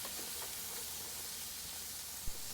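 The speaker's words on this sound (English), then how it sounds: "just listen to that sizzle. That's the sound you want when you put the ribs on the BBQ." Steady, faint hissing sizzle of pork ribs searing on a high-heat barbecue grill, continuous and even, with one brief pop near the end.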